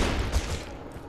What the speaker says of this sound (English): someone's shooting at me now